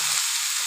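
Moong dal with turmeric sizzles and fries in a pan, a short, bright, steady hiss heard up close and alone.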